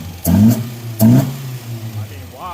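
Datsun roadster engine with newly installed budget throttles, revved in two sharp bursts that rise and fall, then settling to a rough low idle, close by and loud.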